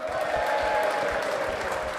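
A studio audience at a football talk show cheers and applauds steadily, a dense sustained wash of clapping and crowd noise under a faint voice.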